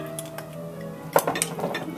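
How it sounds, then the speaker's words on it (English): A utensil stirs food in a metal pot of pasta with fish sauce, light clinks and scrapes against the pot following a quiet stretch, close and without speech. "Give it a nice stir."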